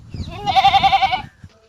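A goat gives a single loud, close bleat, a quavering wavering cry lasting under a second, with faint ambient noise before and after.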